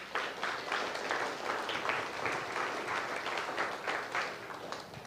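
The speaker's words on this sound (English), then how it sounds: "yeah, you can clap." A church congregation applauds during a service, steady mid-distance clapping from a modest crowd, even and continuous throughout.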